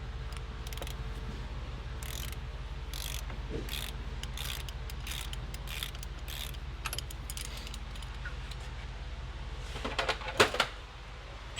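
A ratchet wrench clicks in short bursts while loosening a large bolt on a Nissan 350Z power steering pump, with sparse metallic ticks over a steady low hum and a louder clatter near the end.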